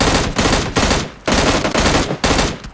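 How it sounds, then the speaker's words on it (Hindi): Gunfire in the mobile shooter PUBG Mobile Lite comes in four or five loud, rapid bursts separated by brief pauses, close and dense with no talk over it. "सज्जन पुरुष सब पे गोलियां चलाई जाती हैं"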